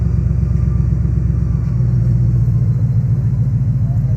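A Ford Mustang GT with the 5.0 Coyote V8 and a new aftermarket exhaust idles close by with a deep, steady pulsing rumble, rising slightly as the throttle is blipped, with no talking over it.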